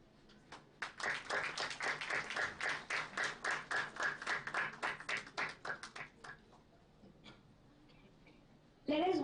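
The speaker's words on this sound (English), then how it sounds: "a warm round of applause" A crowd at an international management conference applauds with steady, rhythmic clapping for several seconds, then the claps fade away into quiet.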